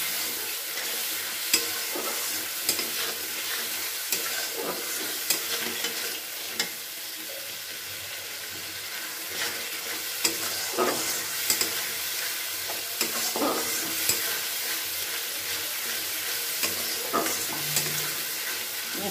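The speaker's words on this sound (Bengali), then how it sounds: "মশলাগুলো দিয়ে একটু নাড়াচাড়া করে নিলাম।" Spices being stirred into pointed gourd (potol) with salt, turmeric, chilli powder, sugar and tomato in a frying pan for a Bengali curd curry, a spatula scraping and tapping repeatedly over a soft continuous sizzle.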